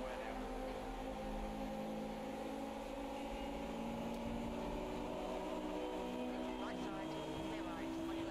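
German Group A race car in Automobilista 2 droning at high revs in fifth gear, a steady engine hum layered with driveline whine, continuous and constant in level while a voice talks over it.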